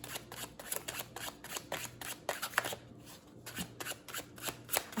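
Tarot cards are shuffled up close, a quiet, rapid run of papery riffling flutters and soft taps that continues throughout with no talking.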